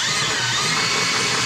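Power drill spinning steadily at low speed to drive an 1855 transmission lube pump, a continuous close whir with broadband motor noise and no breaks.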